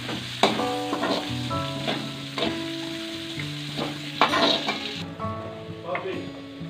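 Sliced shallots fry in hot oil in a pan until browned for a Kerala chickpea curry, a steady sizzle with stirring scrapes and clinks running throughout, fairly close.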